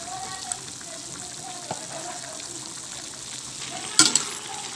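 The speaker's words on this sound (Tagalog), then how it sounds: "after 4 to 5 minutes cooking, magdagdag po tayo ng konting sabaw." Breadfruit simmering in coconut milk for ginataang pakak gives a steady low sizzle and bubbling, with a sharper splash and clatter near the end as broth goes in and the pot is stirred.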